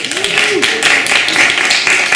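An audience at an art institute talk in San Francisco gives a brief round of applause, a dense, even burst of clapping with voices mixed in.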